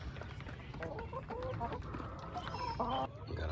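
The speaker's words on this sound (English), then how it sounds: "Got a hen right there, about to lay." A backyard hen about to lay clucks repeatedly in soft, rhythmic bursts, fairly close, over a low background rumble.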